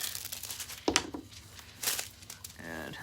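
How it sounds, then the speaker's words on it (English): Small scissors snip and crinkle through foil in a few brief, scattered cuts, with rustling between them and a faint tone near the end. "the scissors are a little too small for cutting like this"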